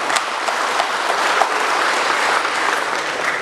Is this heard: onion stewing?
no